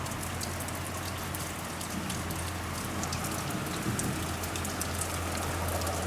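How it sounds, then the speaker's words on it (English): Steady rain falls after a spring storm, a constant, dense hiss of drops on surfaces with a low background hum, even and unbroken throughout with no voices. "Rain's pretty much done."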